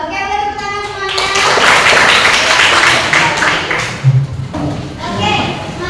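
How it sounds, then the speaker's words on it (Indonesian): A classroom of children clapping their hands together at the teacher's call: a dense burst of claps that builds, peaks and tapers off, with children's voices and the teacher talking before and after. "Oke, tepuk tangan semuanya."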